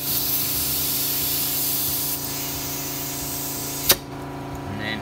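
An air compressor hose fills a plugged car tire, making a loud, continuous airy hiss that shifts slightly partway through and ends with a sharp click near the finish.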